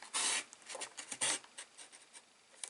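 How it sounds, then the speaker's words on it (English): A brand-new paper trimmer blade slicing down through cardstock, a close scraping rasp in several uneven pushes with short pauses between strokes. "You're going to put your blade in and cut."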